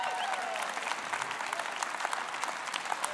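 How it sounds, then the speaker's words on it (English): An audience gives a sustained round of clapping as a group of young people walk up, a steady crackle of many hands heard from a little distance. "Y'all, why don't you give a big clap for these kids while they're coming?"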